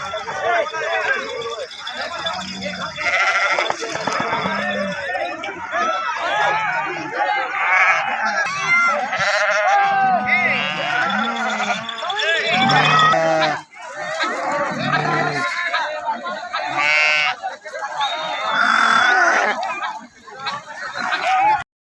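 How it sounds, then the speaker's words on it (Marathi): Freshly bathed sheep by the Bhima river bleat repeatedly in a loud, overlapping flock chorus, with people talking among the animal calls. "आंघोळ केलेली मेंढी आहे बघा"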